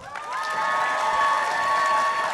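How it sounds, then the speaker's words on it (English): A convention panel audience in Tampa gives a warm round of applause with some cheering, clapping swelling quickly and holding steady, moderately loud from a crowd in a hall. "can you give him a huge round of applause?"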